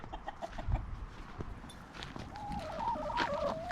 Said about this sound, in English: Give us all a little cock-a-doodle-doo real quick.